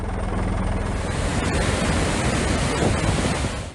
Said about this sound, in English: Torrents of water are surging over the spillway.